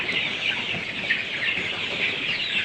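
Colour Bat chickens clucking on a farm, a dense continuous chorus of many birds close by with no talk over it.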